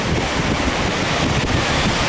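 Ocean surf at Manly Beach, a loud, dense, continuous wash of waves mixed with heavy wind buffeting the microphone, with no voices.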